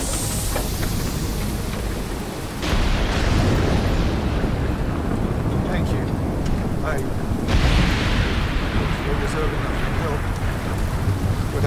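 Explosions in The Division 2 at Coney Island: two heavy rumbling blasts a few seconds apart, each swelling out of a dense, noisy game backdrop, with voices talking throughout.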